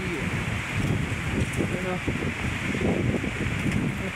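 Strong, cold wind blows through Little Baguio in Malico, San Nicolas, Pangasinan, a steady broadband rush with gusty rumble hitting the microphone up close, while someone talks over it.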